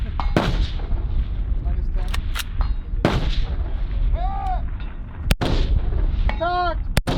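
Rimfire rifle shots at an outdoor shooting match: several sharp, loud cracks spaced a few seconds apart, some ringing off metal targets with a bell-like ping, with people talking and calling out nearby.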